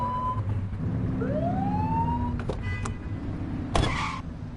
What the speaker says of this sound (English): Get behind them and flip the siren and make them pull over.